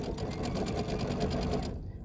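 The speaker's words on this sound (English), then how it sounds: "you're just gonna sew a 1/4-inch seam allowance" A sewing machine runs a quarter-inch quilt seam in a rapid, even stitching rhythm for about two seconds, close and clear, then stops.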